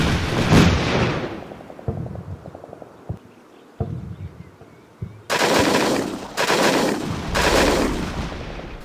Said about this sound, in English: The center scouts take fire once more. From an automatic grenade launcher.